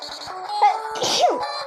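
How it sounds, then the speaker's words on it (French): A single sharp sneeze bursts out near the middle, followed by a second quick breathy sneeze-like burst, with faint tonal background noise around it. "ça m'arrive d'éternuer en vidéo"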